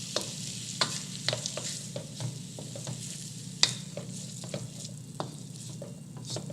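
Food being stirred in a hot pan: a constant frying sizzle under repeated clacking strokes of a utensil against the pan, close and moderately loud, with no speech.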